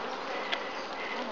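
A soft, steady hum of honeybees in a WBC hive during an open inspection, a continuous faint buzz with a brief louder flicker partway through.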